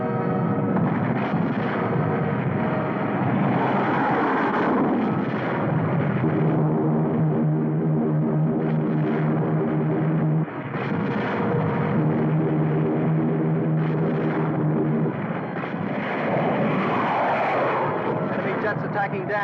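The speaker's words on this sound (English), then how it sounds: "Enemy jets approaching Boulder Dam." Enemy jet aircraft roar in toward Boulder Dam in a 1952 sci-fi film, a loud sustained engine drone with rumbling bursts like gunfire mixed in, and voices calling out over the din.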